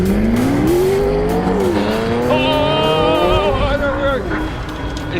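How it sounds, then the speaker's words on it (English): A Ferrari F40 and a McLaren P1 launch in a race with wheels spinning, their engines rising loudly in pitch over sustained tyre squeal and skidding close by. "Wheels spin everywhere."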